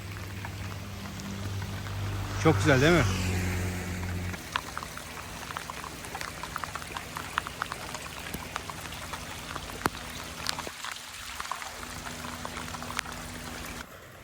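Steady patter of tropical rain in Bali, by the sea, with scattered droplet hits on a surface, continuous and moderately loud; a voice speaks briefly near the start.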